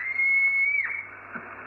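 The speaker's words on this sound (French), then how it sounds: "je siffle avec les doigts" A single sharp, piercing finger whistle holds a steady high pitch for under a second, then cuts off, leaving a faint hum.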